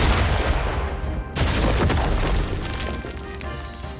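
Explosions and a collapsing cave rumble through a scene in the video game Metaphor: ReFantazio, with a dense, loud roar that surges again in a sudden blast partway through and keeps crashing and crackling to the end.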